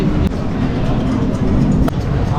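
An amusement park train at Europa Park rumbles steadily with a couple of sharp clicks, loud and close, as if riding on board.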